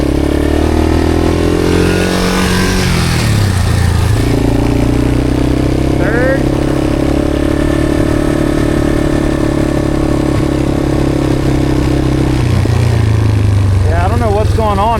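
A 4x4 ATV engine revs steadily and rises and falls as it shifts up and down through the gears, loud and close throughout, with a person talking briefly over it.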